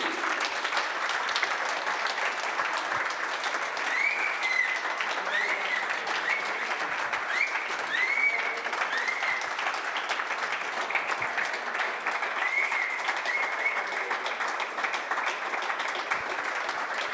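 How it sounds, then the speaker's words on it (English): Sustained applause from a large audience at a darts trophy ceremony for a finalist at the 2024 WDF World Open in Hungary, a steady, even roar of clapping with faint whistles and cheers. "a massive round of applause for Jimmy Van Schie"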